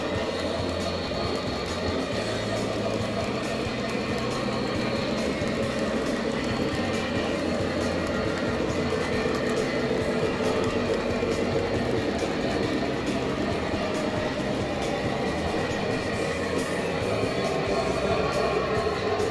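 A Blue Comet model train rumbles and rattles steadily along its track, a continuous clattering drone with no pauses or voices.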